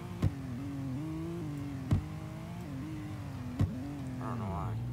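A car in the Roblox Drifting Simulator game drives up a ramp, its engine tone rising and shifting steadily, broken by a few sharp thumps.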